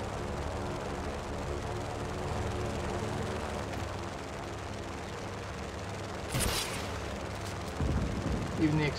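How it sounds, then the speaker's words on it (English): Explosions and gunfire from the open-world action game Just Cause 3 in its black-and-white noir mode: a low sustained rumble with a sharp burst near the middle and further blasts at the end, fairly quiet overall. "Even the explosions look pretty neat."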